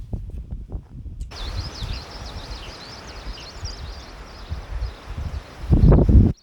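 Strong wind gusting across an exposed rocky scree ridge on Seoraksan's Gwittaegicheongbong, a steady broadband roar with a chirping bird high above, and a louder gust buffeting the microphone near the end.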